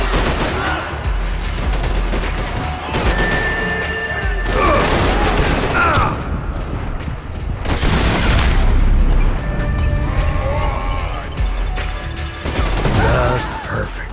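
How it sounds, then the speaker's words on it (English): Grenade explosions in Max Payne 3 land as several heavy, close booms amid scattered gunfire and debris, loud and dense throughout, with game voices heard in between. "Grenades."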